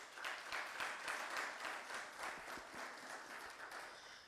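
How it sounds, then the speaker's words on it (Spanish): Steady applause from a church congregation, a continuous wash of many hands clapping for several seconds with no talking. "nuestra hermana Lilia, un fuerte aplauso por favor."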